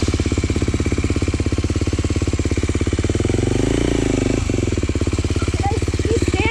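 A KTM 950 motorcycle engine runs steadily with a loud, rapid pulsing thrum as the bike rides smoothly across a water crossing, the note rising and churning slightly midway through, with no talk over it.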